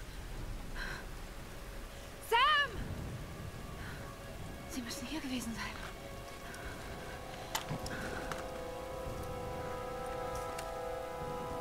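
Steady rain falls as a soft, even hiss of drops in Tomb Raider Definitive Edition, faint and continuous beneath occasional game sounds and someone talking over it.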